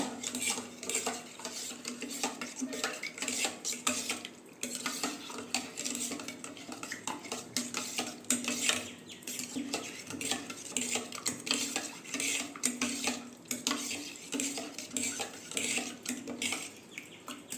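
A spoon stirs gelatin into about half a cup of water in a bowl, a steady clinking and scraping that runs continuously and fairly close, with no talking over it.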